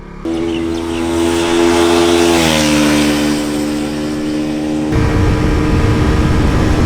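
A KTM RC 125 motorcycle engine revs hard on the road, holding a high buzzing tone that climbs and then drops, loud and close, ending in a rush of wind noise.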